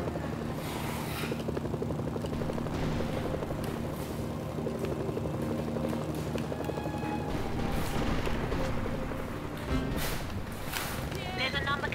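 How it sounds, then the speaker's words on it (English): A helicopter in the action video game Mercenaries: Playground of Destruction whirs with a steady rotor drone throughout, mixed with game effects and occasional thumps, while a voice talks over it. "Eager beavers getting in all the helicopters."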